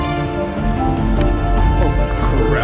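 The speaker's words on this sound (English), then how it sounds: "It's raining hard." Heavy rain pours during a storm on a Grand Canyon rim-to-rim hike, a dense continuous patter with a few sharper drips, close and loud throughout.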